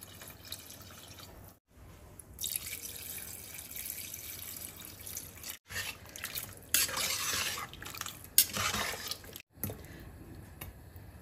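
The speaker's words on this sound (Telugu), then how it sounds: "ఇప్పుడు ఇందులోకి నేను 2 గ్లాసుల వాటర్ యాడ్ చేస్తున్నాను." Two glasses of water are poured into a pot of gongura mutton curry, giving splashing, gurgling bursts of liquid that come and go over several seconds, close by with no voices.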